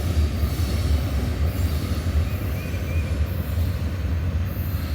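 Freight train of grain hoppers and loaded gondolas rolling past at Abbeville with a continuous heavy low rumble of wheels and cars, faint metallic squeals drifting above, steady and close, no talk.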